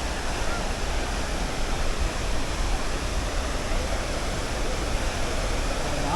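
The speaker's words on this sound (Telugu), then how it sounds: "ఈ వాటర్ ఫాల్ నుండి వచ్చే సౌండ్ నిజంగా నెక్స్ట్ లెవెల్ పో" Athirappilly waterfall roars in the monsoon season with a loud, dense, unbroken rush of falling water that fills the whole stretch without pause.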